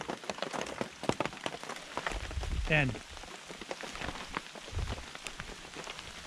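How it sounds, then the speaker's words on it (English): Condensation drips like rain onto surfaces at a ridge-side motorcycle campsite in fall, an irregular patter of close taps and drops, with a brief spoken word and a short whooshing sweep partway through. "This is the condensation from stuff coming up over the ridge."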